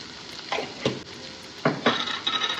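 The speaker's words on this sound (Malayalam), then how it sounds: "നന്നായിട്ട് ഇളക്കുക" Turmeric and Kashmiri chilli powder stirred in a hot pan for a tomato moru curry, with several distinct scraping and clinking strokes of a spoon against the pan over a soft sizzle, close and alone.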